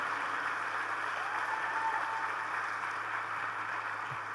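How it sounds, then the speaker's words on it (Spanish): A church congregation applauds during a Spanish-language service, a steady, even wash of clapping that sounds somewhat distant and muffled, with no talk over it. "Alguien tiene que aplaudir porque Dios es un Dios de oportunidades."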